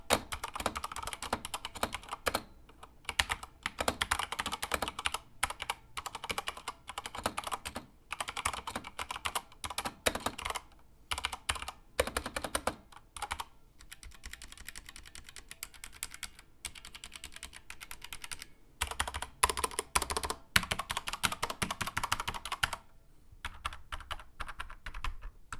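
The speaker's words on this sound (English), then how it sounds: "we're gonna go ahead and test the sound of this keyboard" Typing on a Corsair K70 Mk. 2 SE mechanical keyboard, quick runs of clacky keystrokes in bursts separated by short pauses, close and fairly quiet with no talk.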